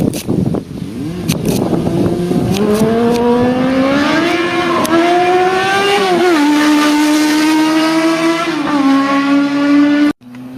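A Zaporozhets car fitted with a Yamaha R1 motorcycle engine revs loudly and continuously, its high-pitched engine note climbing and holding through the gears close to the listener before cutting off abruptly.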